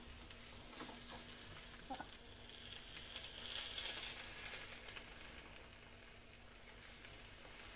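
Ghawane, a thin Konkan rice pancake, sizzles steadily in a hot pan as it is slowly flipped, a soft continuous frying hiss with a few faint clinks and no talking.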